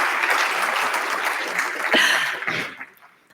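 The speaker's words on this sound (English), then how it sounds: "this is the part where you clap" Applause from a conference audience after a web development talk, a dense burst of clapping that carries on strongly for a couple of seconds before thinning out and fading, with a cough or throat-clear inside it.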